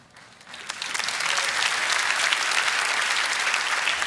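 An audience at a talk by Gunter Pauli breaks into applause, the clapping starting light and quickly swelling into steady, dense applause that fills the room and continues strongly to the end.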